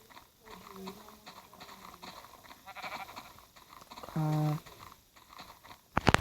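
Sheep bleat in the video game Minecraft, a short loud bleat standing out amid game noises and footstep-like clicks, with people talking over the scene.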